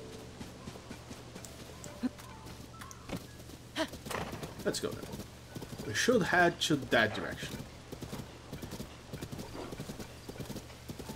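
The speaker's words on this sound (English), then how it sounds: "Hello, horse." A horse in the video game Zelda: Tears of the Kingdom, with rhythmic clip-clopping hooves close by and a snorting whinny in the middle, while someone talks over it.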